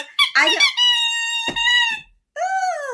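A squeaky toy squeezed in a run of loud, close, drawn-out high squeaks, two long tones broken by a brief pause, with no talking.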